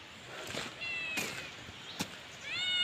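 A cat meows several times, producing short, faint rising cries that come close together over a quiet outdoor background.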